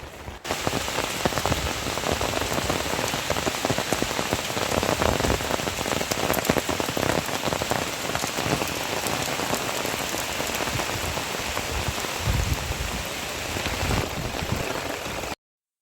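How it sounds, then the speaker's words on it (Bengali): Heavy rain pours steadily, a dense hiss of drops drumming on surfaces, continuous and close, with no voices. "দেখো কত বৃষ্টি হচ্ছে"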